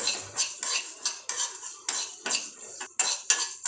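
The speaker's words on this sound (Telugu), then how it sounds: "ఆవాలు ఒక రెండు స్పూన్లు కొంచెం దోరగా ఫ్రై చేసుకుందాం అండి" Two spoons of mustard seeds frying in a pan for chicken pickle, heard as rhythmic close scraping and clattering strokes of a utensil, with no voices.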